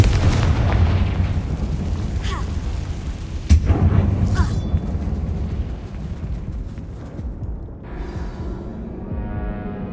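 A Confringo fire spell blasts with a sharp boom inside a closed, tomb-like mine in Hogwarts Legacy, one loud hit cutting through a dense, rumbling game soundscape.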